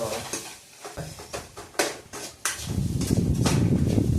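Uppittu tempering sizzling in a pan, with a spoon stirring and scraping against the metal in uneven strokes before the frying hiss swells loud and steady toward the end.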